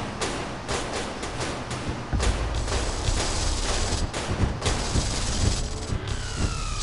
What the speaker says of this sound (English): I'm sick of your stupid missiles.